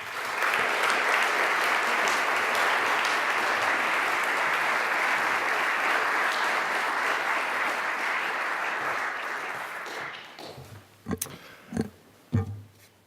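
Audience applause welcoming Chancellor Milliken at a higher education event, a loud sustained crowd clapping for about ten seconds that then fades into a few scattered claps and knocks.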